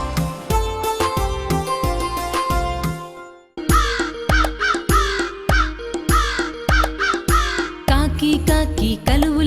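Repeated crow caws for a Telugu cartoon nursery rhyme, sounding as a string of sharp, rhythmic calls over bright musical accompaniment, loud and close.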